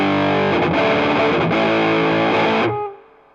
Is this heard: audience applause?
no